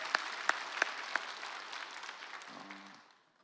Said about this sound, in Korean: 우리 만나게 하신 하나님께 가장 큰 영광과 감사의 박수 올려드립니다